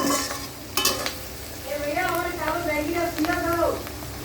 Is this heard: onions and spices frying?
yes